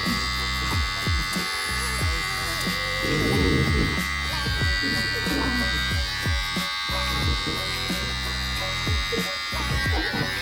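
Electric hair clippers buzz continuously and close by during a home haircut of a man's own hair, with rhythmic cutting strokes and a voice faintly underneath.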